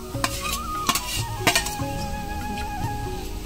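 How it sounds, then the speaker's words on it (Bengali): Grated coconut is stirred in a lightly heated wok as the filling for palm-fruit pitha, giving soft scraping strokes and a faint sizzle punctuated by a few sharp metallic clinks of the spatula against the pan. "কড়াইটা হালকা কোনো রকম গরম হয়েছে। এর মধ্যে আমি দিয়ে দেবো নারকেলটা।"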